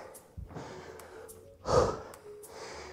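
Slow deep breaths taken and released during a rest break in a fitness workout, soft breathy inhale and exhale sounds with one louder, sharper exhale near the middle, close to the microphone with a faint background hum.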